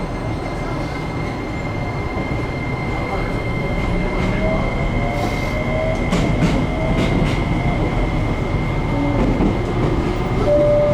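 A JR Kyushu 303 series local train runs steadily between Chikuzen-Maebaru and Meinohama, with a continuous loud rumble, faint wheel squeals and a rising motor whine. A calm announcement voice plays over the running noise.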